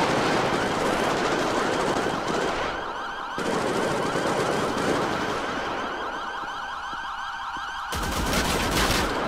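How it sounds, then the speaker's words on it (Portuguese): Dense, loud bursts of gunfire in a GTA RP police chase on a bridge, heard over a continuous wailing police siren throughout the scene. "Disparos na ponte"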